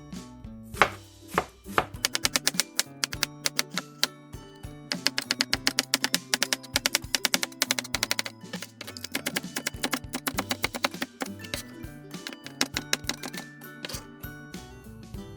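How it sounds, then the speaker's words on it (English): A knife chops vegetables on a cutting board for a tuna kimchi stew, in long runs of fast, steady, close taps broken by short pauses, with no talking. "Let's cut all the vegetables."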